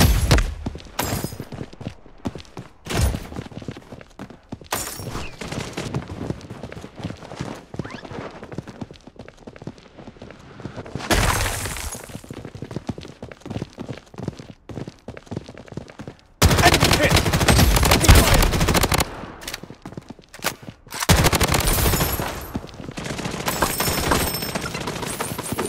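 Bursts of gunfire from the Blood Strike video game: rapid automatic volleys and single shots, loud and close, coming in clusters with pauses between them and heavy sustained firing toward the end.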